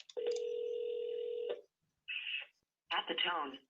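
Telephone tones during a call: a long steady tone, then two short electronic tone bursts with a gap between, heard clearly with little else around them.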